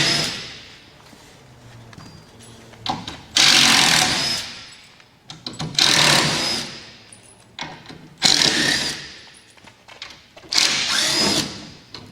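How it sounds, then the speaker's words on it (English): A power drill removes screws from the back panel of a Harvest Saver shipping crate, running in several loud whirring bursts of a few seconds each, separated by brief pauses. "we're going to want to make sure and remove the screw on the back here"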